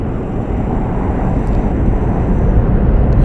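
An inbound airliner comes in to land at Las Vegas Harry Reid International Airport, heard as a steady, heavy broadband roar that holds loud and constant throughout, with no voices over it.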